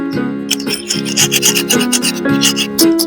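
Repeated rubbing strokes clean both ends of a motor starter, a rhythmic scraping that rises and falls about once a second over a steady tonal hum in the background.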